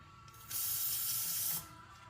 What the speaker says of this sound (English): I have some carb cleaner around here somewhere